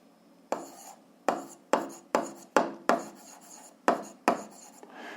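Pen strokes writing out a seventh-grade algebra solution on paper, a series of about nine short scratchy taps and scrapes in an uneven rhythm, close and clear with no talking.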